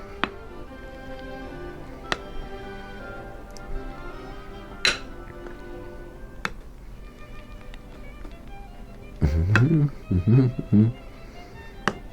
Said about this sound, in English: we've added our avocado. Let's give it a stirring.